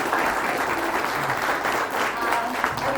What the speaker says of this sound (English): we need a louder applause